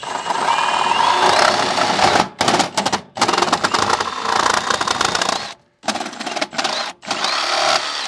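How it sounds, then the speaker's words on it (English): Jigsaw cutting through a plastic mini split line set cover, a loud buzzing rapid-stroke rattle in several bursts with short pauses between cuts, close up and without talk. "I'm going to use my jigsaw here."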